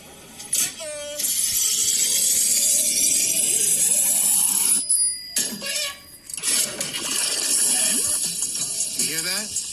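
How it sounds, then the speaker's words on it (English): Loud, steady crackling sizzle filling the clip, with a few brief bell-like chirps and a short break partway through. "You hear that? That's the sound of sizzling."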